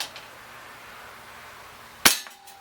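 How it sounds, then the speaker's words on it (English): A single sharp shot from an Umarex Legends P08 Luger CO2 BB pistol fired outdoors, a loud crack with a quick fade after a quiet stretch. "I'll just shoot one more just in case."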